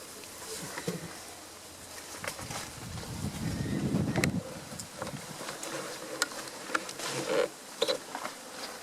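Honeybees hum faintly around an opened hive during a summer honey harvest, a soft continuous drone mixed with scattered clicks and rustles of frame handling nearby.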